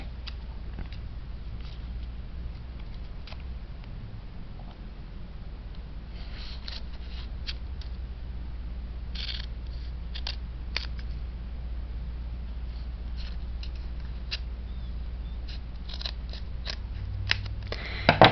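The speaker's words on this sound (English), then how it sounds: "I'm going to take my scissors and just cut to where all the pages are open" Scissors snip through the folded paper pages of a handmade junk journal booklet, giving soft, irregular cuts over a steady low hiss, faint and close, with no talking.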